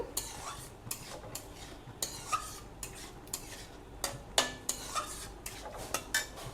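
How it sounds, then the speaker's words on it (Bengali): A spoon stirring tomato and date chutney in a pan over a low flame, giving a series of short, sharp scrapes and clinks at irregular intervals, close and moderately loud, with no voices. "একটু নেড়ে নিলাম"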